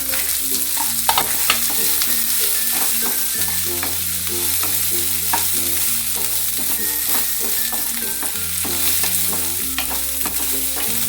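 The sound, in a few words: sautéing red chillies and ingredients for pirandai thuvayal in pan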